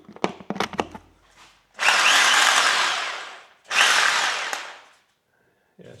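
A few clicks and knocks, then two loud bursts of a hammer drill running near, each lasting about two seconds before cutting off.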